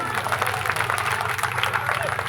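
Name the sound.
applause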